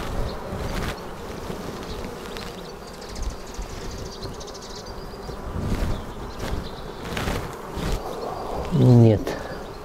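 Honey bees buzz steadily around an open hive whose frames are packed with bee bread, a low continuous drone at close range with a louder pass near the end and occasional speech over it.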